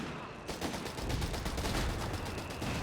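Artillery bombardment in Company of Heroes 3 batters the battlefield, a sudden onset of dense, rapid impacts and crackling gunfire that carry on as a loud, rolling barrage.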